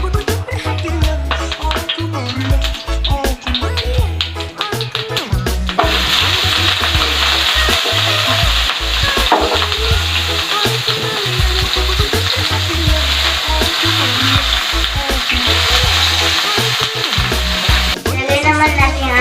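Garlic and onion sizzling in hot oil in a frying pan for sautéed string beans, a steady loud crackling hiss that swells after a few seconds of stirring, with spoon scrapes throughout.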